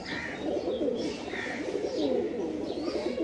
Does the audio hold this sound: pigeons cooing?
yes